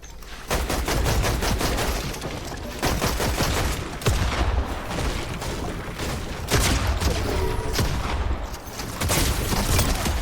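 Dense, continuous gunfire from the video game Fortnite, including a legendary pump shotgun, as rapid overlapping bursts and booms through a chaotic firefight, loud and close, with no speech.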